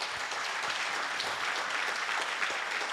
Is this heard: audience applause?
yes